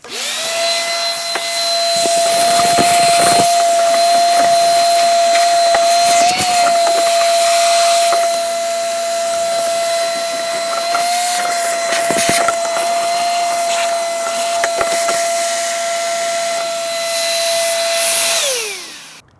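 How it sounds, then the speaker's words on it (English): A vacuum cleaner whines loudly and steadily at close range, its pitch wavering as it sucks debris out of the drains of a Mercedes W123 car, then winds down at the end. "The vacuum did a number on getting all that junk out"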